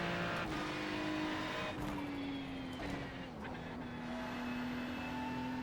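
Ferrari 296 race car engine in iRacing, a sustained droning engine note with shifting pitch and brief tire noise, fairly faint and heard alone.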